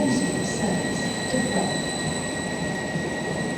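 A train arriving at a station platform at Cambridge North rumbles steadily nearby with a faint high metallic whine from the wheels, continuous and fairly loud throughout.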